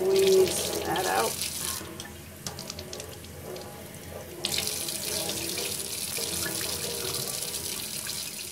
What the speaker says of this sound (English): Now that we've rinsed this first in hot water and then in cold water